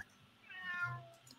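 A single cat gives one drawn-out, rising then falling meow, fairly close and alone in a quiet room.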